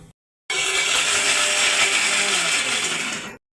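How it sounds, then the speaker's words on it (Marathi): Mixer grinder blending coconut, garlic and green chilli into a paste, a loud, steady whirring grind that starts abruptly, runs about three seconds without easing, then cuts off cleanly into silence. "हे खोबरं, लसूण आणि मिरची हे आपण मिक्सरला बारीक करून घेऊया, पूर्ण पेस्ट करून घेऊया"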